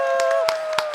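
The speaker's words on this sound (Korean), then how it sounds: "여러분 박수 한번 드립시다" Applause for the Lost Ark staff at the LOA ON Winter 2022 event: scattered hand claps, about four sharp bursts, heard over a steady sustained tone in a hall.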